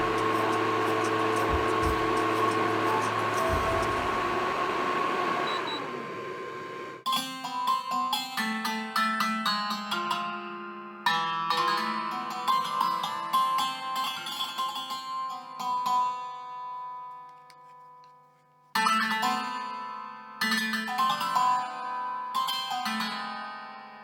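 An XTOOL P2 laser cutter working on plywood gives a steady, close whooshing fan-like roar that stops after about six seconds. Ringing struck metallic tones with pauses between them fill the rest of the time.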